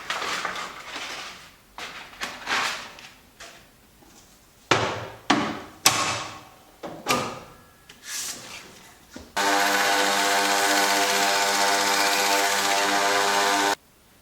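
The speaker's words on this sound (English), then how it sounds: "So yeah, let's get to work, let's start grinding" A knife blade being ground at 120 grit. Scattered knocks and thuds come first, then a loud, steady, buzzing grind that runs without a break for about four seconds before stopping.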